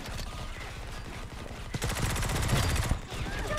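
Gunfire in the mobile shooter Modern Combat Versus comes as a dense stream of shots, with a sharp crack partway through over continuous battle noise, and a voice talks faintly underneath.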